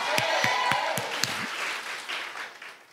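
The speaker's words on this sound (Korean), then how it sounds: "우리 그런 분들 하나님께 가장 큰 박수 영광 올립니다." Applause from a church congregation at a Sunday worship service, with a few sharp claps standing out and the noise of the crowd gradually easing.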